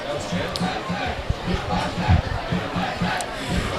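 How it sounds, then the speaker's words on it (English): A large crowd at a night high school football game between South Lyon and Milford fills the air with steady chatter, shouts and cheering, under a nearby announcer's commentary. "We've got a great crowd out here tonight, Paul."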